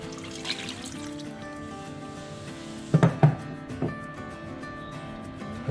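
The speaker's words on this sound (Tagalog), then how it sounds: "Lagay ang tubig." Water runs steadily from a tap or pitcher into a pot for slow-cooking Spanish sardines, a continuous trickling splash with a few louder clunks of the pot midway, no talking.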